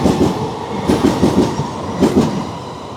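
A train runs through Stratford International station on HS1, a loud, close rumble with rhythmic clickety-clack of wheels over rail joints and no voices.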